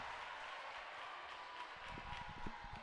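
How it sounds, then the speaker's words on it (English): Crowd cheering and applauding in a high school gym during a girls volleyball match, a continuous wash of clapping and voices close up with a faint steady tone beneath. "the crowd's going wild"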